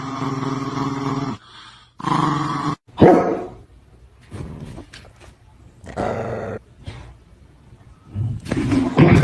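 A dog growls and barks in short bursts, reacting to a person who imitates barking, with pauses between the loud outbursts.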